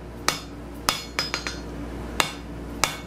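Hammer blows on steel bar stock drawing a one-sided taper: seven sharp, ringing strikes at irregular intervals, close and clear with no talking.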